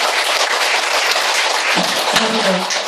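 Crowd applause for presenters at a fashion show event, a steady wash of clapping from many hands lasting a few seconds, moderately loud with a faint voice underneath.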